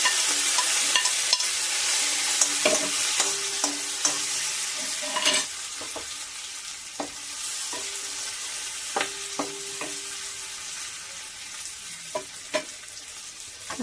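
Onions frying in oil in a pan after fish, a steady broadband sizzle with scattered clicks of a spoon stirring, loud and close throughout with no talking.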